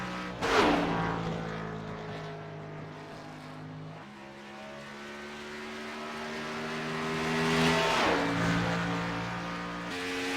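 Race cars lapping a track, engine notes rising and falling as cars pass, with a loud pass near the start and another swell around eight seconds, steady motor drone throughout and no talk.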